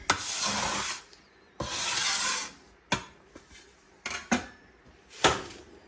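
A scraper drags across a work surface clearing off Italian bread dough, several rasping strokes: two long scrapes followed by shorter quick scratches and a few light taps, close and clear.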